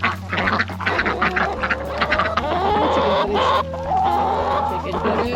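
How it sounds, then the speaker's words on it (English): Chickens and ducks in a farm coop cluck and quack over one another in a busy, continuous chorus, close by, with a steady low hum underneath. "We're gonna stop in and see the chickens and ducks."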